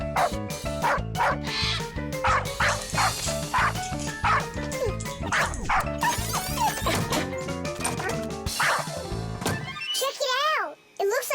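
A cartoon parrot imitates a dog, letting out a rapid run of yappy barks and yips over lively animated background music, with a child-like voice talking and a crash near the end.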